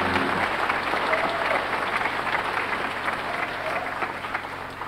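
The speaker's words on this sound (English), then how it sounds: "Give her another hand clap for me." Audience claps for a gospel vocalist at a fall gospel concert, a dense, steady wash of hand claps from a crowd that holds throughout with a faint murmur beneath.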